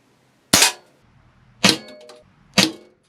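Three shots from an Umarex Smith & Wesson 586 air revolver ring out as sharp, loud, close cracks, evenly spaced about a second apart, each followed by a brief metallic ring.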